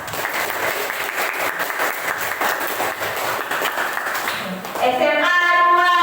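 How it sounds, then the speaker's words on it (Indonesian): Audience applause fills a school classroom session at SMA Negeri 2 Sinjai, steady dense clapping throughout, swelling louder near the end as a voice briefly cuts in. "mari kita beraplaus untuk semua yang telah kita lakukan hari ini"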